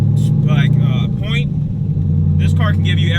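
A C5 Corvette Z06 with 600 horsepower idles with a deep steady rumble, loud and close, while someone talks over it.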